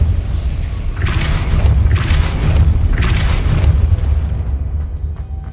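Repeated booming spell impacts from the Depulso force-push charm in the game Hogwarts Legacy, three or four loud bursts roughly a second apart over a steady low rumble of game ambience.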